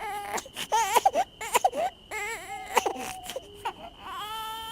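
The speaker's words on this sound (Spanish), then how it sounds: "Era el llanto lastimero de un bebé" A baby's plaintive, wailing cry, heard as a horror sound effect, comes from black garbage bags at a local dump. It rises and falls in repeated, strained sobs, loud and close, with no other sound.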